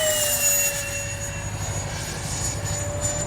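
An E-flite Habu XS 80mm electric ducted-fan RC jet passes overhead on a windy day, a steady high whine with a faint pitch glide over a low rumble of wind, moderately loud and continuous.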